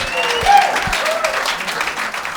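Audience applause at a stand-up comedy show, a steady wash of clapping from the crowd that holds level for the whole stretch, with a brief swell near the start.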